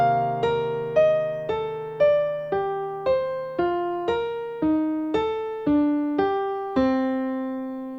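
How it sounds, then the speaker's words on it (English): A sequence of about thirteen plucked notes, each a clear attack with ringing decay over a sustained low drone, stepping through ascending fourths while working down the instrument, evenly paced and alone with no talking. "we're going to play an ascending fourth while coming down the instrument"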